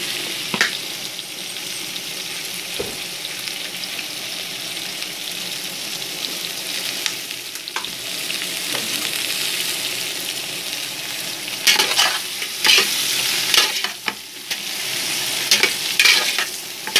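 Butter and oil sizzle steadily in a pot for chicken biryani, a continuous hiss with occasional clinks and stirring scrapes, growing louder and crackly near the end.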